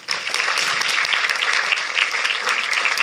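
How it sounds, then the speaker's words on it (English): An audience at the Sir Derek Walcott Memorial Lecture applauds to welcome the Honourable Hazel Simmons-McDonald: steady, dense clapping from a sizable crowd, sustained evenly for about three seconds without talk. "Let's give a big round of applause for the Honourable Hazel Simmons-McDonald."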